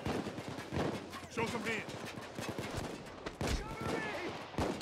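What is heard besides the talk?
gunfire in a video game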